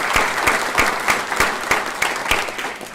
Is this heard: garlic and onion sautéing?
no